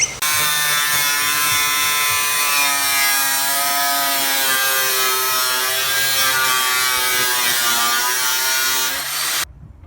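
Angle grinder cutting through metal on a Subaru L Series, a loud, steady high-pitched whine held for about nine seconds before cutting off abruptly.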